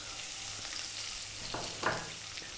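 Small-cut chopped onions fry in hot oil for a mild chicken balti curry, giving a steady close sizzle with a couple of brief stirring scrapes near the end and no talking.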